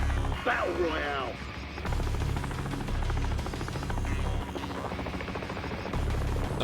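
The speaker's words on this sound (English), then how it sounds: "No one's flying this helicopter." Helicopter in the video game Warzone, a steady low rotor thrum and engine drone running through the whole stretch, with game voices and radio chatter over it.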